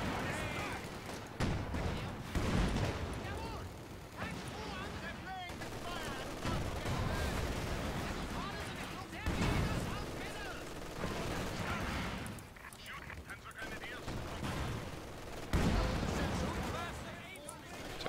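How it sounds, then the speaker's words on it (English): Volley gunfire in the video game Company of Heroes 2 crackles in bursts and rattles amid battle noise, with a person talking over it throughout. "Oh, volley fire."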